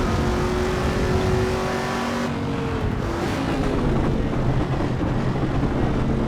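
Race car engine in the Assetto Corsa EVO driving game, a steady loud drone with shifting pitch as the car is driven continuously, with no talk.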